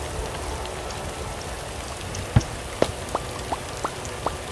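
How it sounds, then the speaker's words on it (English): Rain falling in the game Starbound, a steady soft patter with a handful of distinct drips landing one after another in the second half, with no voices. "Oh, but rain can actually still fall through it."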